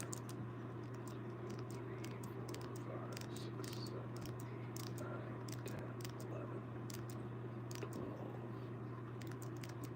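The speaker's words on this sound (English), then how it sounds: "Don't mind me just typing" Steady, faint clicking of keys on a computer keyboard, sitting under a constant low electrical hum.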